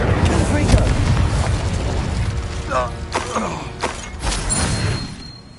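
A booming blast from the Confringo explosive spell in Hogwarts Legacy, a heavy rumble carrying into several sharp bursts and crackles, with a voice speaking over part of it.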